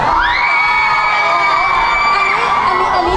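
A crowd at an idol group's stage show screams and cheers loudly and continuously, high shrieks layered into a sustained roar with no break.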